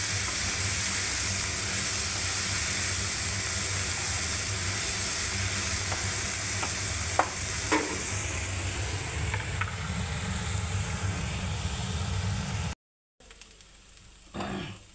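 Potatoes frying in a covered pan over a lowered gas flame give a steady, close sizzling hiss with a few faint clicks, broken by a brief drop near the end before the sizzle resumes more quietly.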